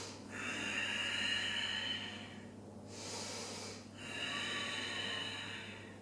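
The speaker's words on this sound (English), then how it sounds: "Keep the breathing going." Heavy rhythmic breathing during a Pilates flow exercise, long audible exhales and inhales in two close, forceful breaths separated by a brief sharp intake.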